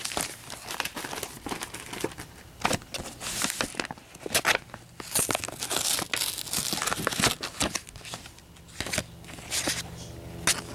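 Plastic bag being opened to get at a free sample package, with close, continuous crinkling, crackling and tearing bursts that run for about eleven seconds.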